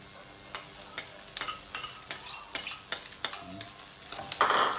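Shredded beef tapa is stirred into a pan of browned garlic and onion. A soft sizzle runs under a steady rhythm of sharp spatula clinks against the metal pan.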